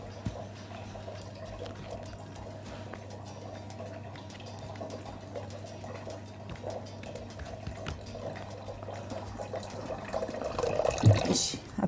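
Water runs steadily into a cooking pot in a home kitchen, a continuous pouring stream that builds slightly toward the end, heard alone without talk.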